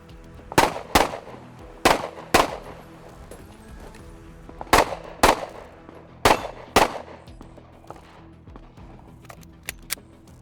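Gunfire at shooting targets, two rounds per target, comes as sharp, loud shots in closely spaced pairs. Several pairs are separated by short pauses, with a few fainter pops toward the end.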